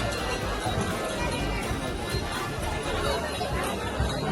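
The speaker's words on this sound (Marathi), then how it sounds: "बघा उतराला किती गर्दी आहे" Steady murmur of a crowd of pilgrims at Ekveera temple, a broad wash of indistinct voices and movement noise at constant level, fairly close and unbroken.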